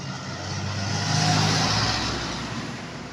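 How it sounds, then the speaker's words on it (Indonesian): A Hino truck overtaking on the road, its engine roar swelling as it draws alongside and then easing away, a single mid-pitched pass heard without talk. "truk Hino nyalip guys"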